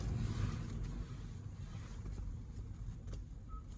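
A car drives along a street with steady low road and engine rumble throughout, fairly close and continuous, with no talking.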